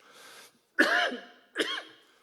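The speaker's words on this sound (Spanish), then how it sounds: "tengo faringitis, no es COVID lo que me oiréis toser." A person with pharyngitis gives three raspy coughs: a faint one, then two louder hacking bursts, each short and separated by brief silence.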